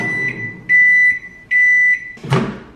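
A microwave oven, used to heat food in a home kitchen, gives several loud, steady electronic beeps over its low running hum, followed by a short clunk near the end.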